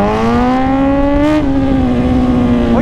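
A Ducati motorcycle passing on a road, heard as a loud, sustained engine drone that rises slightly in pitch, then drops as it moves away, with steady road and wind noise underneath.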